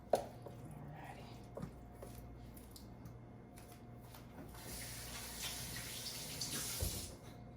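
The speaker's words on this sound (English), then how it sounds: "Had to wash my hands." A kitchen tap runs softly while hands are washed during a home oven-roast chicken cook, a low steady splash that grows louder and busier toward the end.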